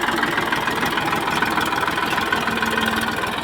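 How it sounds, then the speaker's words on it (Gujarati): A farm tractor idles steadily close by, its engine giving a continuous, even rumble with a faint knocking pulse and no voices. "તો થોડું ટ્રેક્ટર આગળ કરી દઈએ એટલે લંબાણ પડે નહીં।"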